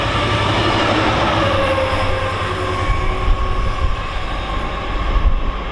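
A Freightliner Class 66 diesel locomotive running light through Stafford on the West Coast Main Line, a loud, steady engine drone and rumble with faint wheel noise, passing close by without pause.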